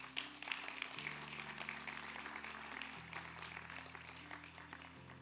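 A graduation ceremony audience applauds its graduates with steady, moderate clapping heard somewhat distant over a low musical drone, continuous throughout.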